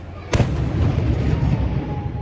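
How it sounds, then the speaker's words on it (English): Fireworks explode at night near a restaurant in Sorrento: one sharp, loud bang, followed by a long rumbling, crackling tail. "They should probably warn you when you come to Sorrento that there will be fireworks every single night"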